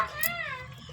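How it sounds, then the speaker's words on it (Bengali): A cat gives a single clear, drawn-out meow close by, wanting fresh fish that has just been bought. "তো বিড়ালটা এসেছে,"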